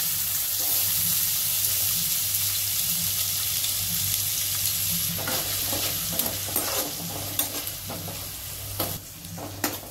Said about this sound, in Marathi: कांद्याला चांगलं गोल्डन ब्राउन होऊन देऊया आपण